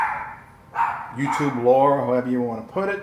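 A dog barks and whines in short yipping bursts indoors, mixed in with a person talking close to the microphone throughout.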